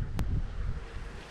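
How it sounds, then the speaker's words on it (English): Steady wind buffets the microphone beside a neighborhood pond on a gusty day before a cold front, a low rushing roar with a brief sharp gust early on and no talking. "the wind's blowing everything right there"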